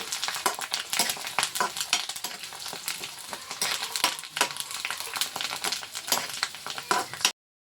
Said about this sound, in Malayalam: നമുക്ക് ആവശ്യത്തിനുള്ള കറിവേപ്പില എല്ലാം കൂടി നമുക്കൊന്ന് കരിഞ്ഞു പോകരുതും ഒന്ന് വാടി കിട്ടിയാൽ മതി